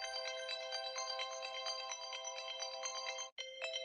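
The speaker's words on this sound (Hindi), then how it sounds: "अलार्म बज रहा है।" A phone alarm rings steadily at moderate volume, its bright melodic ringtone repeating in a continuous pattern with a brief gap near the end and no voices.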